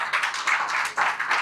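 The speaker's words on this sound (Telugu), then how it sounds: "గట్టిగా చప్పట్లు కొట్టండి" Church congregation clapping loudly during a sermon, a thick, continuous burst of many hands applauding together at close range for a brief moment.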